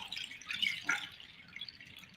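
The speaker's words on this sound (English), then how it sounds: "a mixed seed chime. What does this sound like? Water. Running water, right?" A mixed seed chime, a handheld rain-style instrument filled with seeds, gives a soft continuous hiss like running water, with a brief louder swell in the middle before settling back to a gentle rustle.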